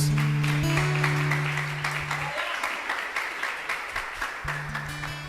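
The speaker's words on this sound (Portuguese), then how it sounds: "Vamos aplaudir a palavra de Deus?" A congregation in church claps after a scripture reading, many hands applauding in a steady dense patter over a held low organ note that drops out midway and returns near the end.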